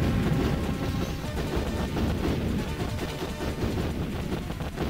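Dense bursts of gunfire and shell explosions from an arcade shooting video game rattle almost continuously, loud and busy with no voices.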